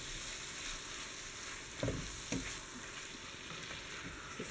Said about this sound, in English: going to add in the canned corn, the green chilies, I'm just going to mix that in